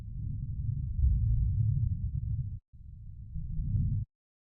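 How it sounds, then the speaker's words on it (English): A low rumbling thunder sample made for organic, textured ambient music plays alone in two long, steady swells of deep rumble with a brief gap between them, heavy and close. "The next thing that I'm going to show you here is this thunder sample"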